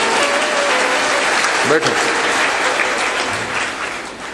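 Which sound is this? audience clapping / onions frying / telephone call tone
audience clapping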